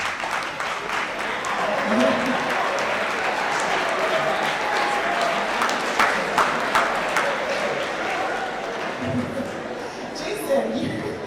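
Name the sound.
audience applause in high school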